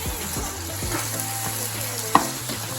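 Mixed vegetables and olives are stirred through a sizzling pot of meat jollof rice (benachin), with steady frying hiss, the scrape of a spoon sweeping the pot and one sharp clink near the end.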